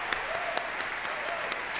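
Conference audience applauding at a closing session, dense steady clapping with a few sharper individual claps and faint voices beneath.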